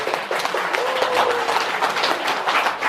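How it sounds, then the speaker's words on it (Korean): A congregation at a Sunday Buddhist temple service breaks into a round of hand clapping, a steady wash of close applause with faint voices underneath. "박수가 들리다 말입니다. 다시 박수."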